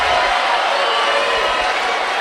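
Loud, dense crowd noise fills an arena at the Judo Grand-Prix Tel Aviv 2019, steady cheering and roaring from many spectators with no pauses.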